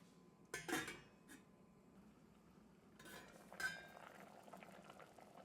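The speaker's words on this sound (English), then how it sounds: "Now see, the salna has come to boil." Vegetable salna gravy boiling in a covered pot, a soft steady bubbling with a couple of brief metallic clinks of lid or utensil standing out near the start and again later.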